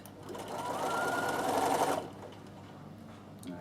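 A sewing machine stitches fabric with the needle down in a steady two-second whir, then stops abruptly, leaving faint room noise; quiet and close.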